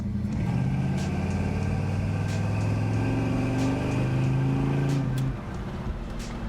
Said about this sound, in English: we'll turn left here and give it some gas and see how she does